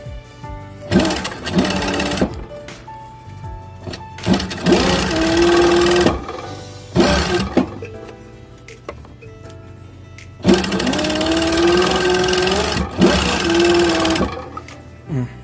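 An industrial sewing machine stitches piping in a tailoring shop, running in loud, close bursts of rapid mechanical whirring with short pauses between runs.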